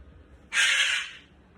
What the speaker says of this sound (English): Yeah, you're a good little cockatoo.